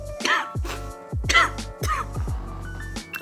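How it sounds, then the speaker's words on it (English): Four rough, throaty coughs in a row from a lingering cold, each followed by a brief voiced tail, close and fairly loud. "It's just like a lingering cough kind of thing."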